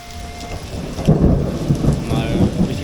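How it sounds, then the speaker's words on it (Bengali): Heavy rain with thunder in Ratargul swamp forest, Sylhet, during a flood: a steady close downpour with deep rolling thunder swelling through the short stretch. "কিন্তু প্রচুর বৃষ্টি হচ্ছে প্রচুর বৃষ্টি"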